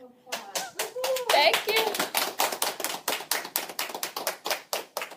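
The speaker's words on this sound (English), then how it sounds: "Round of applause." Applause from an audience at an ice cream party, a steady run of claps rising to a loud burst then continuing in a regular rhythm, with a voice briefly heard over the start.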